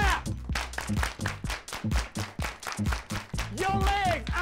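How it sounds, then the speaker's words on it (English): Hands clap in a steady, evenly spaced beat during an exercise workout, each clap sharp and close, set against rhythmic background music. "Clap your hands."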